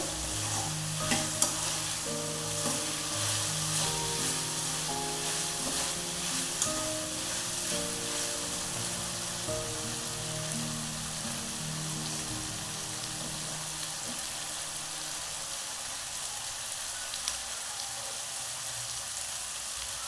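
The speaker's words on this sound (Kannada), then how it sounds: "ಈ ಥರ ತರಕಾರಿ ಎಲ್ಲ ಹಾಕೊಂಡ್ಮೇಲೆ ಎಲ್ಲ ಸಾಫ್ಟಾಗಿ ಫ್ರೈ ಆಗೋದು ಥರ ಬಾಡಿಸ್ಬೇಕು" Vegetables frying in a pan for hotel-style vegetable upma give a constant bright sizzle with occasional scraping stirs, close and steady throughout, with faint background music.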